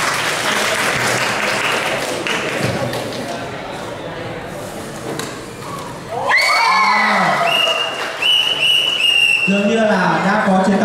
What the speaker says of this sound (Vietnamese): Xin một tràng pháo tay ạ.